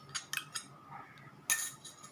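Yogurt and flour being mixed in a bowl, several light spoon clinks and scrapes against the bowl in short irregular bursts, quiet and close.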